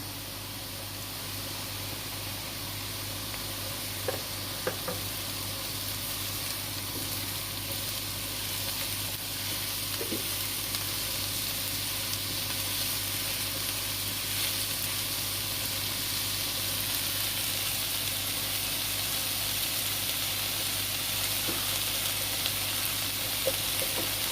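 Chopped leeks sautéing in a pan for a Turkish sarmaşık kavurma, a steady soft sizzle of frying running evenly and close throughout, with a few faint clinks of stirring.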